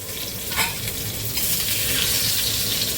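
Brinjal fries in a pan over a medium gas flame with a steady close sizzle, and a utensil stirs it with scraping strokes, one sharper stir at the start and then a continuous crackle.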